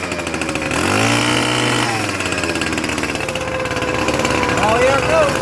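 A small curb-find leaf blower engine sputters to life and keeps running unevenly, its pitch rising and dipping as the throttle is worked, loud and close with people talking over it.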